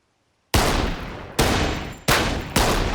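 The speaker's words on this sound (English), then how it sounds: "Okay, you shoot too fast." Four loud gunshots at target practice fired in quick succession, each sharp crack trailing into a ringing decay, alone with no talk.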